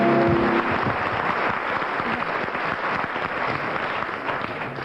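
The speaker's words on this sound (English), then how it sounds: "having heard the volume of that applause" Loud, sustained applause from a studio audience at a radio comedy panel show, a dense steady wash of clapping that fades slightly toward the end.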